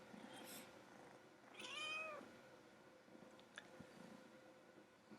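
A house cat gives a single drawn-out meow near the middle, faint against a quiet indoor background with light tapping.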